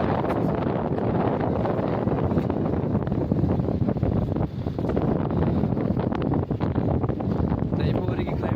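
A sudden strong wind in snowy Manali near the Atal Tunnel buffets the microphone with a loud, continuous roar that drowns out everything for several seconds.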